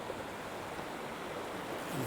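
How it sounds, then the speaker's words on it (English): Shallow tide waves wash steadily over a sandbar, a constant broad hiss of surf and water with no distinct breaks, heard from a short distance at moderate level. "I've got a big sandbar with the tide washing over the top of it"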